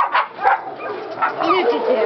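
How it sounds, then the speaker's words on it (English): Several small Giant Schnauzer puppies yip and whimper in short high bursts, overlapping one another at close range. "Have you ever seen so many puppies, Madeline?"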